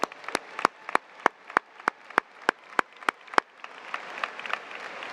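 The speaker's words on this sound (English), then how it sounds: "please stand so we can give you a round of applause" High school graduation crowd applauding counselors and teachers: a steady wash of clapping from many hands with distinct sharp single claps punctuating it at regular intervals, fairly close, fading slightly toward the end.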